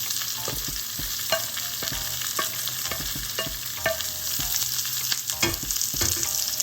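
Steady loud sizzling of onions frying in a pan, with scraping and clinks of a spoon stirring throughout.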